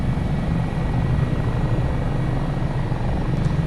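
An HH-65 Dolphin Coast Guard helicopter flies in Microsoft Flight Simulator 2024 near Valdez, Alaska, its engine and rotor making a dense, steady, loud broadband roar without a break.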